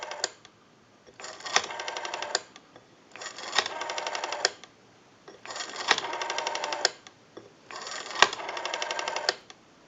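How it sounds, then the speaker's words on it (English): The rotary dial of a Western Electric 302 telephone whirs back after each turn, producing four or five separate bursts of rapid clicking pulses, close and crisp, separated by short quiet gaps. "We have a nice smooth return on our rotary dial now"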